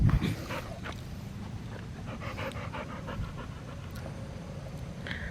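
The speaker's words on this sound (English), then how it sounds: "I'm gonna show you the dogs because they're in the yard playing right now" Dogs playing in a yard pant rapidly and steadily up close, a continuous breathy rhythm with a brief louder burst at the start.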